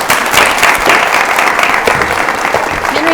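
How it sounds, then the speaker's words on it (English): A crowd applauds a speaker at an ideas event, loud, close and continuous clapping from many hands with a faint murmur of voices underneath. "another round of applause for Henry"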